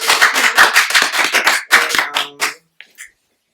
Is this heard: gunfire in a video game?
no